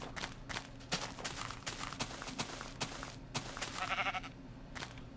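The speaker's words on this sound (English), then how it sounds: "There's some sheep." Sheep bleating in the blocky video game Jumcraft, several short bleats scattered over a few seconds amid footstep-like game sounds, fairly close, no talking.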